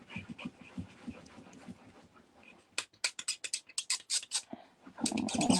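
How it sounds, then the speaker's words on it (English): A dog lies under a settee indoors, panting in quick, rhythmic bursts that start soft and grow louder and closer, followed by shuffling as it stirs at the end. "That's the dog under the settee."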